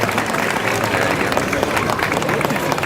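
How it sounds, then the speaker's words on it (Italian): A crowd claps at the opening day of the Macomer carnival, Carrasegare, with dense, steady applause throughout that sits close and loud under an amplified voice. "facciamo un bel applauso perché questa è la giornata di apertura del Carrasegare"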